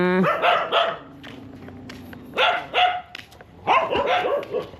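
A dog barks outdoors in rural Thailand, short close bursts in three clusters with quiet gaps between.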